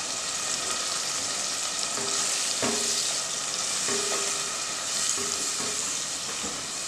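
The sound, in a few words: mint paste frying in oil in a pan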